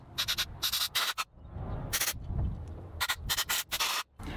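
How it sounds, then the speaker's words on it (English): Short bursts of compressed air hiss through a Marvel Schebler carburetor from an older tractor, in quick intermittent puffs with a softer rushing pause in the middle, close and fairly quiet. "I'm going to use some compressed air and blow the entire thing out again"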